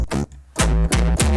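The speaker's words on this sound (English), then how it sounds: "Plucky bass sound." Plucky synth bass notes from a bass and tech house sample pack, played as short, punchy tones with a brief pause after the first note and then three loud, evenly spaced plucks.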